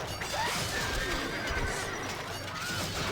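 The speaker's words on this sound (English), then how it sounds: "I feel bad killing all these horses" Horses neigh and whinny in a medieval battle in the Stronghold Crusader strategy game, several loud whinnies over a dense din of combat clatter and crashes.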